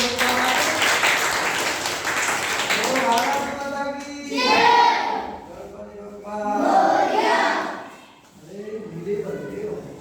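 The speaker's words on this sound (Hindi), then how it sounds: "ताली बजाइए" Children in a classroom clap briefly, then a teacher's voice carries the rest over faint scattered claps.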